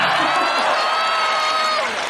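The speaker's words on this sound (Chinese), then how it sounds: "各位朋友这么热情的掌声" A large concert crowd in Luoyang applauds and cheers loudly and continuously at a show, a dense wall of clapping and shouts that fades slightly toward the end.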